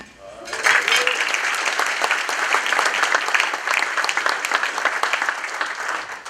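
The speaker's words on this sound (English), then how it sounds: "ask for a round of applause as well because we did have Sonoma Clean Power rejoin" An audience at a general membership meeting breaks into applause for a rejoining member organization, a loud, dense burst of clapping that starts suddenly and continues steadily for about six seconds, with a brief voice just before it begins.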